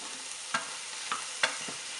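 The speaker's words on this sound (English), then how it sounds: "have the garlic and the red pepper on the stove here" Garlic and red pepper frying in a pan on the stove for a paleo pizza, a soft continuous sizzle broken by a few scraping stirs of a utensil, close and quiet with no talk.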